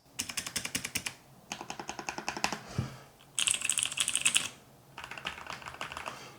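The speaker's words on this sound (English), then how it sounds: "these are mechanical switches, overall you can just hear quality" Rapid clacky keystrokes from a mechanical keyboard in several bursts separated by short pauses, close and crisp with no voices.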